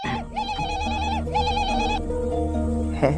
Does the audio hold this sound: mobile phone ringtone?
yes